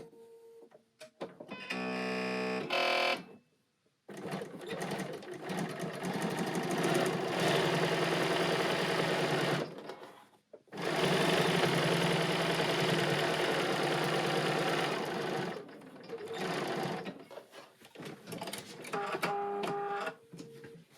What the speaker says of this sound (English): And then you're gonna sew with a 1/4 of an inch.